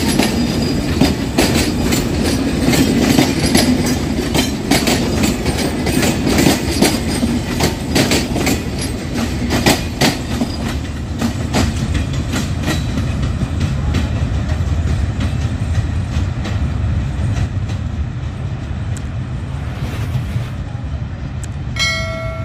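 A train passes Pakshi station in Bangladesh, loud and close: continuous rumble with rapid rhythmic clickety-clack of wheels over rail joints throughout, easing slightly near the end with a faint squeal, no talk.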